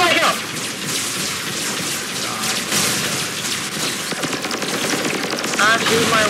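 Rapid laser fire from a combat robot in Robocraft, a dense crackling stream of shots that runs continuously and loudly, with brief spoken words mixed in.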